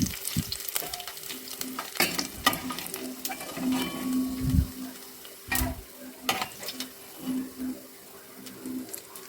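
Cashews, raisins and coconut pieces fry in oil for Kerala ada pradhaman, giving a close, bubbling crackle with scattered sharp pops and metal stirring taps that fade to a gentler fizz.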